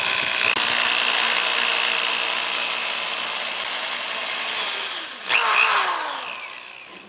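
A steady, loud whine of a power drill running continuously as it bores into the hinge of a Harley-Davidson tour pack, with a brief surge in pitch and intensity near the end as it bites harder.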